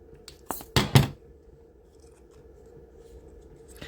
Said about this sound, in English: I'm going to show you just to trim this little bit off here.